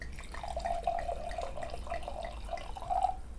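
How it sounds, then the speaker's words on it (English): A 2022 Sashay Rosé of Merlot from Columbia Valley's High River Vineyard is poured into a wine glass, a soft, continuous liquid gurgle lasting a few seconds, close and quiet, with no voices. "We're going to be pouring this lovely 2022 Sashay Rosé of Merlot."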